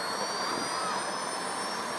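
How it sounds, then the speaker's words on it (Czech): A propeller-type aircraft with a top speed of about 510 km/h passes overhead, its steady broadband engine roar and high whine sustained and fairly loud throughout, with no talk. "To letadlo, tady ten model, jak to vidíte, tak maximálka toho typu je nějakých 510 km hodin"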